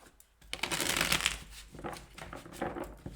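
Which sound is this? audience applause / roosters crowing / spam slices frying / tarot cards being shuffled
tarot cards being shuffled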